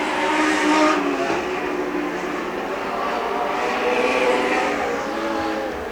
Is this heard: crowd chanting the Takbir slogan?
no